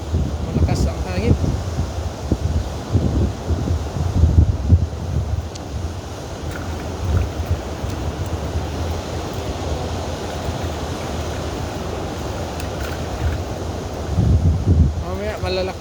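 Strong coastal wind where the sea meets a river during a fishing outing, a steady close roar buffeting the microphone for the whole stretch, with brief talk near the start and end.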